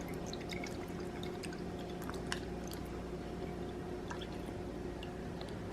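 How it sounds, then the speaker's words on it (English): White rice vinegar poured for a pepper steak sauce, about a quarter cup, gives a soft liquid trickle with faint drips and splashes over a steady low kitchen hum. "and then about a quarter cup of white rice vinegar."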